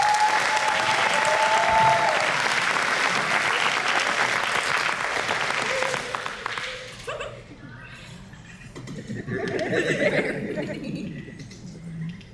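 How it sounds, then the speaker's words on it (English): Applause from a middle school promotion ceremony audience after science fair winners are announced, loud and sustained for about six seconds before fading into murmuring and a voice talking in the hall. "let's give them another round of applause"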